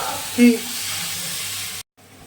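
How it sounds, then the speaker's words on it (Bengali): Spice-marinated mutton hits a hot dry pan with no oil and sizzles loudly, a steady hiss after a brief thud, cutting off abruptly at the end. "কড়াটা গরম হয়ে গেছে মাংসটা দিয়ে দিচ্ছি দেখুন একদম তেল ছাড়া"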